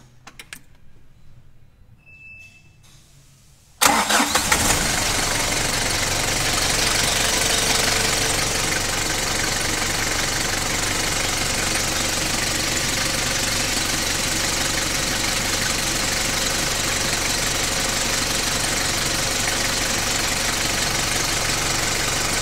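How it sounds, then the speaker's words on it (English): A quiet room with faint clicks, then an engine cranks and fires up, settling into a steady, loud idle that runs continuously. "now it's telling us that we should start the engine"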